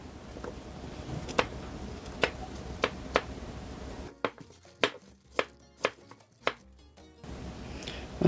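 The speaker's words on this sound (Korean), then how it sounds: "무 반개는 믹서기에 썰기 좋게 잘라줍니다." A knife chops radish sharply on a board, single crisp strikes in a steady rhythm, close and clear with no talking.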